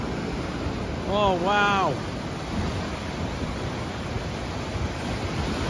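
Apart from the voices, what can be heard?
ocean waves breaking at the seaside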